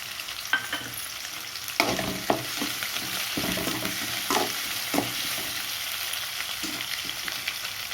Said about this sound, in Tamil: நல்லா வதக்கி கருவேப்பிலை கொஞ்சம் போட்டுக்கோங்க